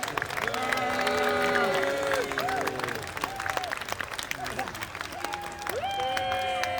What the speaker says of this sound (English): Give them a huge cheer.